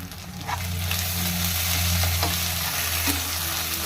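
Ginger garlic paste with turmeric fries in oil for a mutton curry, a loud continuous sizzle with occasional stirring scrapes and clicks close by.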